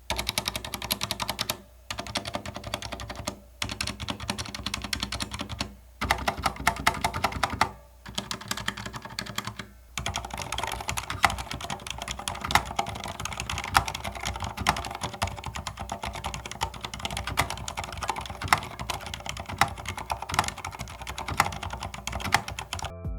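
Fast continuous typing on a full-size Corsair K70 RGB PRO gaming keyboard fitted with silent red switches, dense close clicking with a few brief pauses, moderately loud with some hollow housing resonance.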